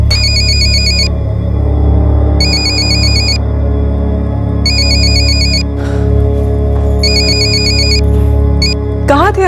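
A telephone rings in repeated electronic bursts of about a second each, separated by short gaps, loud and close over a constant low background hum, with no talk.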